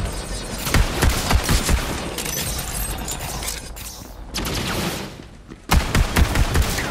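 Rapid bursts of heavy gunfire from a handheld sniper-like gun in Borderlands 3, loud and close, with dense volleys, a brief lull, then firing resuming hard.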